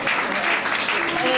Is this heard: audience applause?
yes